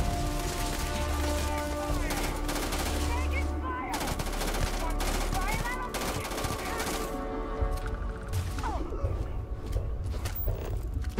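Rapid gunfire in the space RPG Starfield crackles in dense bursts of automatic shots and impacts, with a player talking over the action.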